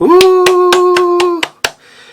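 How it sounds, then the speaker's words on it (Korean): Seven crisp, evenly spaced claps, close and loud, ring out over a sustained tone on a Korean talk channel; the final two claps land after the tone drops away. "여러분 박수 쳐주세요."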